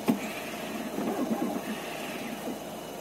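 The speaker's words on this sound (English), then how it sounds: "so I can turn on my inverter, which powers up my key machine." Key-cutting machine powered by an inverter run off a vehicle's engine, used to cut a Ford car key, giving a steady mechanical hum with small rises and dips throughout.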